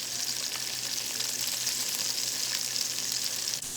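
Salmon pieces frying in a pan, a close, steady hiss and crackle of sizzling oil with no talk over it.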